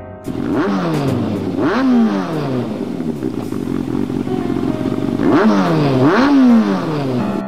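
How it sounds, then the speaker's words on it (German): A video game engine revs repeatedly in a garage, pitch sweeping up and down in surges, with a steady running drone between the revs; loud and close. "Ein Motor."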